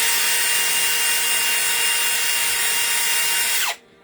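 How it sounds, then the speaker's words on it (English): A motorized wire wheel grinds steadily against a Jadeite glass base to remove old marks, a loud continuous abrasive whir that cuts off near the end as the wheel winds down with a falling whine. "You don't want to do your wire wheel too much."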